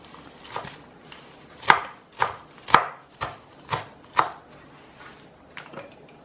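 A knife chops fresh herbs and garlic on a board for a blender, seven or so sharp, close cuts in an uneven rhythm with short pauses between them, heard alone with no talk.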